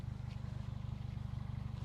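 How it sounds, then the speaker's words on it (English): Steady low engine rumble from a modified Toyota Celica TRD idling nearby, a continuous throbbing pulse held evenly throughout with no talk over it. "look at the nice rumble you hear."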